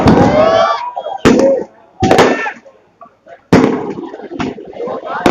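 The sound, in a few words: firecrackers bursting at a public rally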